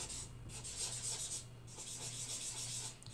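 Soft, close scraping of colored pencil on paper, in a llama coloring session with Tilibra Académie Royale pencils, a faint rhythmic rubbing in short strokes with a brief pause midway and no talk.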